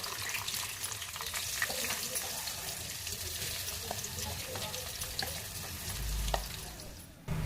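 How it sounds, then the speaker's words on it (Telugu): Blended chutney frying in a hot tempering of lentils, mustard seeds, dried chillies and curry leaves, giving a steady close sizzle with occasional stirring scrapes throughout. "ఆల్రెడీ మిక్సీ వేసి పెట్టుకున్న పచ్చడి కూడా వేసి పచ్చివాసన పోయే వరకు వేయించుకోవాలి"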